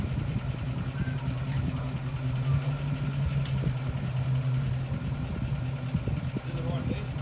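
A car engine idles steadily with a low, even hum throughout, while people talk over it.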